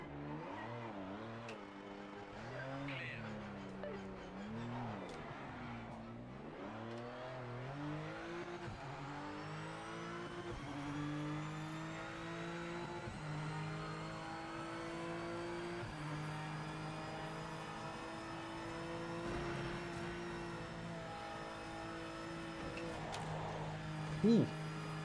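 A race car lapping in the Project Motor Racing video game, its engine note rising and falling through gear changes and revs at a steady moderate level for the whole stretch, with a brief sharp noise near the end.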